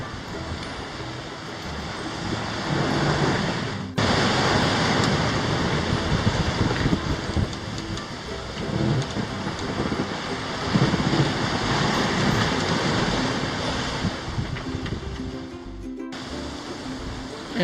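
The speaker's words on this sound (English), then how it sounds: "And for 2 hours we just sail along the bay as the rock slowly gets closer" A sailboat under single-reefed main and partly furled jenny crosses a bay, with steady rushing waves and gusty wind buffeting the microphone throughout, broken by a couple of brief dips.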